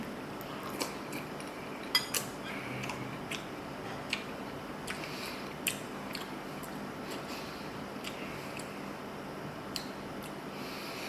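Someone eats Lithuanian blueberry dumplings with sour cream, producing quiet fork clicks against a plate and soft chewing squishes at irregular intervals over a faint room hiss, no talking.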